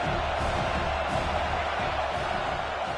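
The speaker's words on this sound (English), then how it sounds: "These fans are going absolutely nuts." A home crowd at a Texas A&M at Penn State college football game roars loudly and steadily, a dense wall of cheering and whoops filling the whole stretch without a break.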